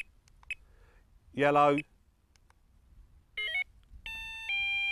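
A Delkim carp fishing bite alarm cycles through its colour settings, giving short electronic beeps and tones of changing pitch, each press separated by brief pauses, with someone speaking between them.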